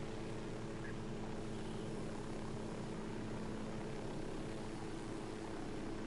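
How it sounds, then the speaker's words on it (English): Several helicopters hover overhead in the video game Ghost Recon Wildlands, producing a constant, heavy rotor and engine drone that holds steady and fills the scene throughout. "Damn, they got four helicopters up there."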